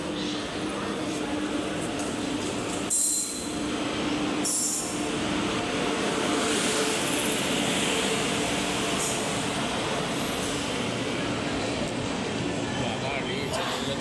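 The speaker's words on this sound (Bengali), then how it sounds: "তো ট্রেন চলে এসছে" A train arriving at a station rumbles loudly and continuously nearby, with rattling wagons and brief clanks, while voices chatter underneath.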